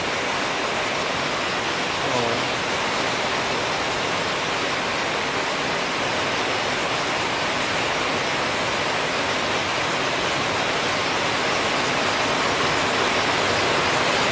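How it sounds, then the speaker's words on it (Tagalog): Very heavy rain pours in Camarines Norte, a dense, constant roar that stays loud and unbroken throughout. "grabe po ang lakas ng ulan"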